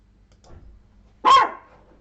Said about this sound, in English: Oh, I think this is the dog.